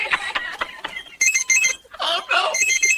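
A parrot mimicking a beeping pager alarm in a hospital delivery room: bright, repeated electronic-sounding beeps in quick bursts, broken by short squawky vocal sounds, loud and close.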